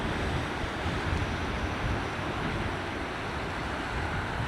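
The Eel River at flood stage after storms surges in a broad, continuous roar of rushing water, loud and close with wind buffeting the microphone, and no speech.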